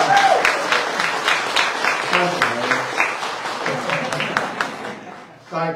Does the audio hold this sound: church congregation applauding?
yes